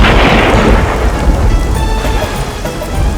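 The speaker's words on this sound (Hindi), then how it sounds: "देखो तो बारिश शुरू हो गई।" Thunder rumbles heavily as rain begins, with a loud, dense roar and a broad wash of falling rain that stays strong for the whole few seconds.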